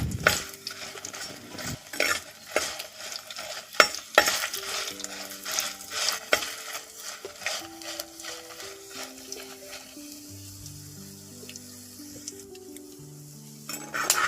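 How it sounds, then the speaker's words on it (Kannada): Byadagi chillies, coriander seeds and asafoetida being dry-fried and stirred in a pan, with scraping, clinking utensil taps and a soft sizzle throughout, no talking. "ಚೆನ್ನಾಗಿ ಫ್ರೈ ಮಾಡ್ಕೊಳ್ಳಿ."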